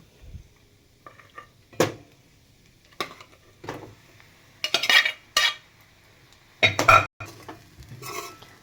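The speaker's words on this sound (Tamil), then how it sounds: "இப்போ தேவையான அளவுக்கு சாப்பாடு போட்டு கிளற போகிறோம்" A spoon stirs cooked rice with an egg and pepper mixture in a pan, giving irregular scraping and clinking strikes against the metal with quiet pauses between them. A faint sizzle sits underneath.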